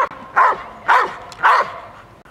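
A dog barks three times at an even pace, close and fairly loud, with short quiet gaps between the barks.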